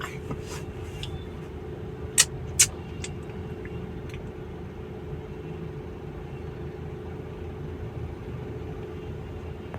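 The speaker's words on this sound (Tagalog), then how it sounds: "Nandito pa tayo sa traffic." City road traffic in Manila rumbles steadily around a waiting vehicle, a low continuous engine drone with two sharp clicks or knocks near the start and no talking.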